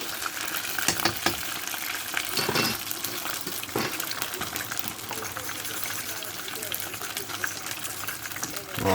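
Sweet and sour turkey balls fry in a fat fryer with a steady, dense crackling sizzle and occasional louder pops, while someone talks nearby.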